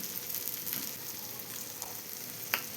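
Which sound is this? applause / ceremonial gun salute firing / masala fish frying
masala fish frying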